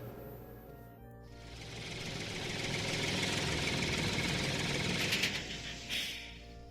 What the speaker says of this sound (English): Why is he bringing his tractor up here? That's not just his tractor. It's a threshing machine.